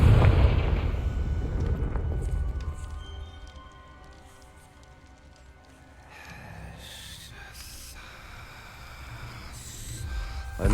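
Confringo fire spell blast in Hogwarts Legacy, a booming burst at the start that fades into a quieter rumbling tail, with sharper bursts of activity near the end.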